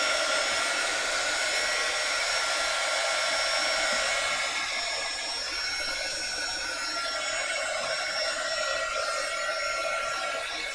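A heat tool blows steadily at close range, drying ink on art journal paper, a loud continuous whirring hiss that barely shifts over about eleven seconds, no talking.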